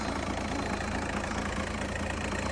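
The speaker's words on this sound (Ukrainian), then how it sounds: "працює двигун, як швейцарський годинник" A 1.9-litre diesel engine in a Volkswagen Touran idles steadily and close by, a continuous low rumble with a fine knocking texture that holds even and loud throughout, with no voices.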